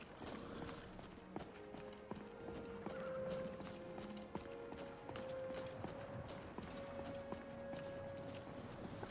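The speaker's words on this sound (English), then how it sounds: "Got some horses." Horses walk across the ground in the Skyrim VR video game with a steady clip-clop of hooves, set against ambient game background sound and a sustained tone.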